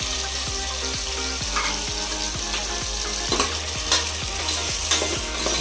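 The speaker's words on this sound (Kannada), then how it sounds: "ಈ ಥರ ಚೆನ್ನಾಗಿ ಫ್ರೈ ಮಾಡ್ಕೋಬೇಕು." Tomato, green chili and mint frying in a pan: a continuous close sizzle marked by regular, evenly spaced stirring scrapes, with no voices.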